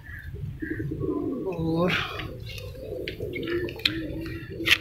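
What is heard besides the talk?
pigeons cooing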